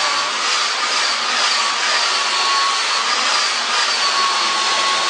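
A hair dryer blows steadily on Marley braid crochet hair, a continuous close, loud whooshing airflow with a constant motor whine and no pauses.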